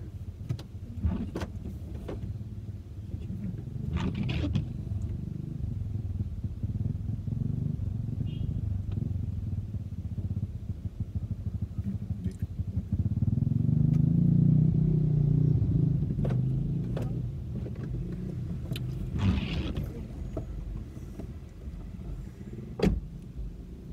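A car moves slowly through congested Friday traffic in Mandeville on a rainy day, its low engine hum steady and close, with a louder swell of nearby traffic midway and scattered faint knocks.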